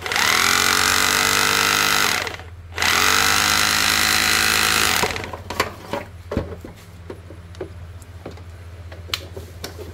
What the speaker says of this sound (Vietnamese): Giờ tới khoan búa nè